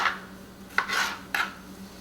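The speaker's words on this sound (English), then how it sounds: "We are cutting the front part where the stem is off" Tomatoes are cut on a rubber cutting board, a few soft knife strokes and dull taps spaced apart, fairly quiet and close with no talking.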